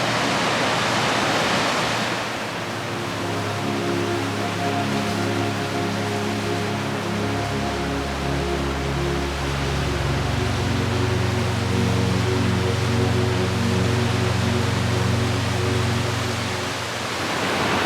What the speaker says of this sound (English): Look at the waterfalls back there.